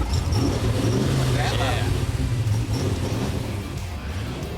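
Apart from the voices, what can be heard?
pickup truck engine driving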